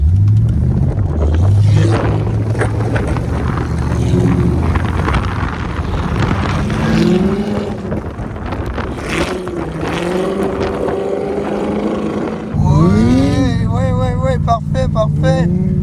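A supercar drifts across a frozen lake in Sweden, its engine droning steadily and then revving up sharply near the end, with someone talking over the noise much of the time.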